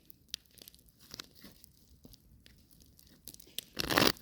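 Soft, irregular papery flicks and rustles of tarot cards being shuffled, ending in a louder burst of riffling, close and quiet with no voices.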